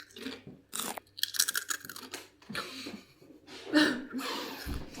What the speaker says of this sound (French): Ça croustille comme une chips